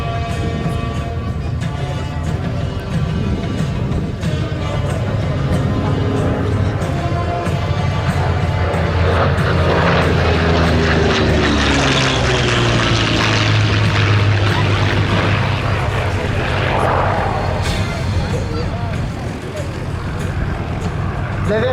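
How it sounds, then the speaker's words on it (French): P-40 fighter plane passing overhead at the 2023 La Ferté-Alais airshow, a loud propeller engine drone swelling and sliding downward in pitch as it flies by, with a commentator talking over it throughout. "La version du P-40 que vous voyez ici n'est pas celle qui existait en 1941."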